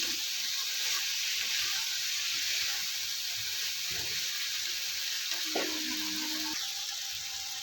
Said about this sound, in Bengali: এবার এই মশলার সাথে আবারও আমি মিশিয়ে নেবো ভালো করে